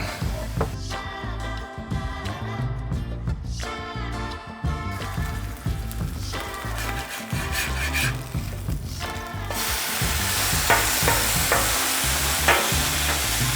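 Bacon strips frying in a greased hot pan give a steady, close crackling sizzle throughout, dense and loud, with occasional clinks and scrapes of a utensil and the sizzle swelling stronger toward the end.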